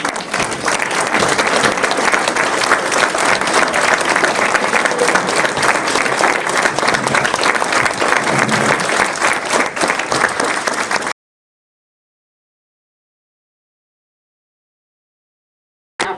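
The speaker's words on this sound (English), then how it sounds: "One final round of applause for our remarkable women." A round of applause for honorees at a women's awards ceremony: dense, steady clapping from a crowd that runs loud for about eleven seconds, then cuts to silence before a brief burst returns at the end.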